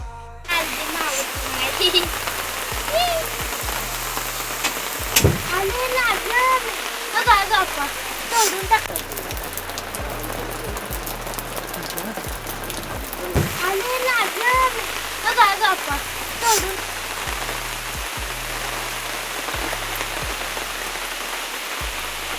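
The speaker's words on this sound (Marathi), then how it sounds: "आता पाऊस येतोय." Rain pours steadily and loudly, splashing on surfaces, with muffled voices murmuring underneath throughout.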